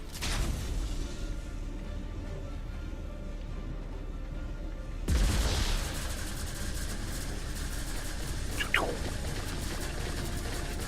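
A charge lantern weapon fires in ARK Aberration, a steady electric buzz with a sudden surge at about five seconds and a brief sweeping zap near nine seconds, over a continuous low engine-like drone.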